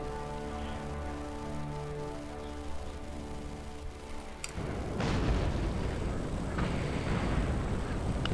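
Cannon artillery booms in the video game Empire Total War: a steady hum gives way to a sharp, heavy blast about halfway through, followed by rumbling, crackling battle noise that stays loud to the end.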